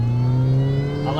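Supercharged Mini Cooper JCW engine revs with a steady, strong tonal drone and whine, heard close up from inside the car while driving.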